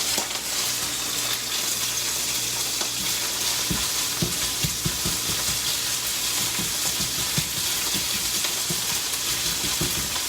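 Bacon frying in a pan, a steady close sizzle with scattered crackles and pops for several seconds, no talk.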